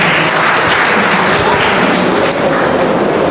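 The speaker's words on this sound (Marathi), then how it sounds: "पुन्हा एकदा यांच्यासाठी जोरदार टाळ्या होऊन जाऊ देऊ मित्रांनो" Loud, steady applause from an audience at a ghazal poetry gathering of a literary conference in Nagpur fills the entire stretch without a break.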